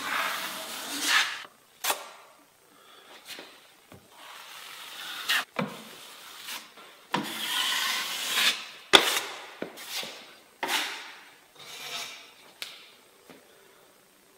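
A wide drywall knife spreading joint compound along an outside corner during a third coat, producing a series of short scraping and rubbing strokes with sharp clicks between them, close and fairly quiet.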